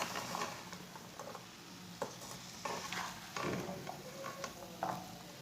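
Steady scraping and stirring of noodles and boiled vegetables in a pan with a soft sizzle underneath, irregular strokes repeating close by.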